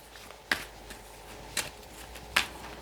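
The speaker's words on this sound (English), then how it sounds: "I'm just going to shuffle these around a little bit more" Oracle cards being shuffled, three separate crisp riffling bursts spaced about a second apart, close and fairly quiet, with no talking.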